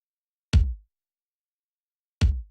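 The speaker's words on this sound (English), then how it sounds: "Combined, both kicks sound like this." Two layered dubstep kick drums processed in Logic hit twice, well apart, each a punchy deep thump with a short bright click on top, loud and isolated against silence.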